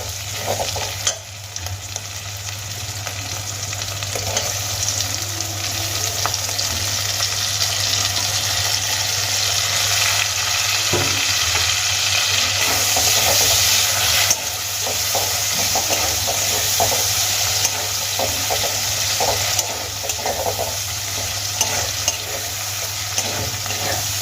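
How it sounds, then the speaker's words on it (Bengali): Chopped tomatoes and green chillies are stirred with ginger and onion in a hot pan for fish head curry, a steady close sizzle with repeated spoon scrapes and clanks running throughout, no talking. "টমেটো কুচি আর কাঁচা লঙ্কা কুচি আমি আদা পেঁয়াজের সঙ্গে খুব ভালো করে মিশিয়ে নিয়েছি"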